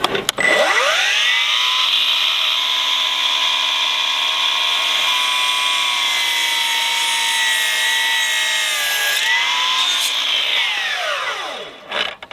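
A Milwaukee M18 Fuel 12-inch dual-bevel miter saw spins up to a loud, steady high whine as it cuts through wood, holds for about eleven seconds, then winds down.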